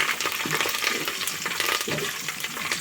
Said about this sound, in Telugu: ఇప్పుడు కరివేపాకు కూడా వేసుకుందాం.